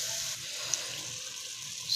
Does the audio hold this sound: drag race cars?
no